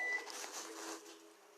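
A kitchen oven signals that it has finished preheating with a faint electronic tone, a thin steady pitch holding through a quiet room, soft and unaccompanied by speech.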